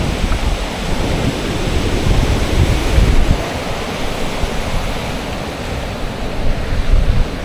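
Strong northwest wind roars across the microphone over crashing surf on a northern coastal fishing trip, a loud, continuous rush of gusts and breaking waves.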